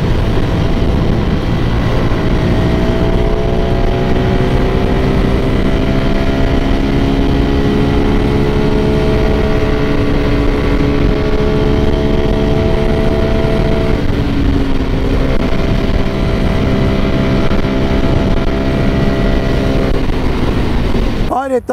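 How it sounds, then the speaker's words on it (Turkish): A 2023 CF Moto 250 NK motorcycle engine runs steadily and loudly throughout, its pitch rising and falling as it revs, with a deep rumbling drone. "Motorun sesi çok güzel."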